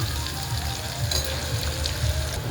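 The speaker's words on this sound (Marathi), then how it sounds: "कढीपत्ता टाकूया तेलामध्ये. एकदा ढवळून घेऊया." Curry leaves sizzle steadily in hot oil for a masala rice pulao, a dense continuous crackle with brief bursts as they are stirred once, close and alone with no talk.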